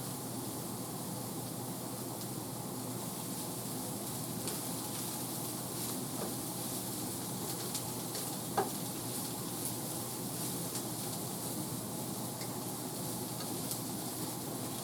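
Cabbage egg roll filling sizzles steadily in a pan over too-high heat, a dense, even frying hiss that runs unbroken with a few faint clicks and no talking.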